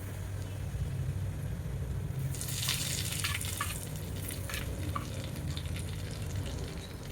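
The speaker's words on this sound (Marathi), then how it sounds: "आता गरमच तेल या मेथ्यांवर टाकायचं आहे" Hot oil poured over fenugreek seeds for a sweet raw-mango relish, a sharp burst of sizzling that rises suddenly over a low background hiss and then crackles down.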